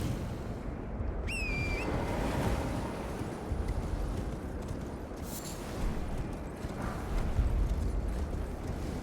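A horse gallops in the game Elden Ring across a bridge, with rapid rhythmic hoofbeats under a low rumbling background and a brief rising synthetic whistle near the start.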